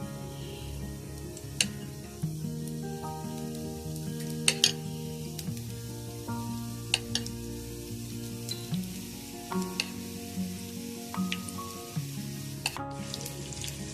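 Small drops of gram-flour phulki batter fry in hot oil, a soft sizzle beneath scattered sharp clinks of a spoon on the pan and a faint background tone, with no talk.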